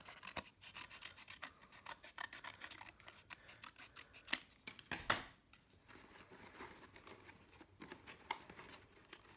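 Scissors snip a curved piece out of material for a sculptural form, a quick run of close, crisp cuts with a louder cluster of snips midway, then softer rustling.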